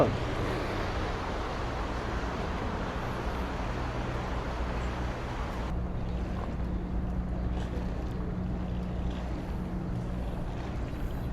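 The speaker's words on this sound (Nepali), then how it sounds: "मान्छेहरू बोटिङ गरेर इन्जोय गरिरहेछ." Boats on a river in Lyon, heard as a steady broad rumble and wash of water and motors mixed with wind, moderately distant and continuous, without clear speech.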